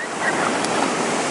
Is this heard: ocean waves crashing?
yes